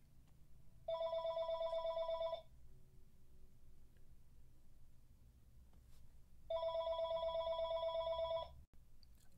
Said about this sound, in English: You may have heard the phone ring a couple of minutes ago